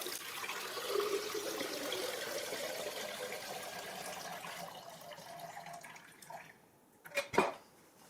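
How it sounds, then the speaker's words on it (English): Water pours into a jar, a faint continuous splash and trickle that tapers off, ending with a couple of brief clinks. "So get your water and put it in a jar."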